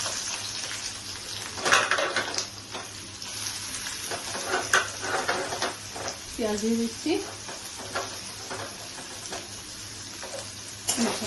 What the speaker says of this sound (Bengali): তেলটা গরম হয়ে গেছে, এখন আমি পেঁয়াজ দিয়ে দিচ্ছি।